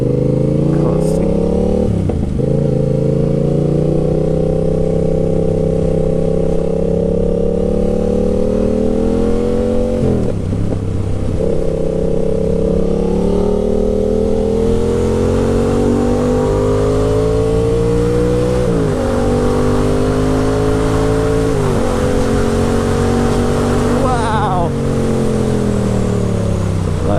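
A 2020 Yamaha MT07 with a full GR Moto exhaust system revs and accelerates through repeated rising engine sweeps between gear changes, loud and close throughout.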